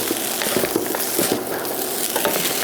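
Cold peas and carrots stirred in a frying pan for cheap fried rice make a loud, continuous sizzle with rhythmic scraping and tossing from a utensil.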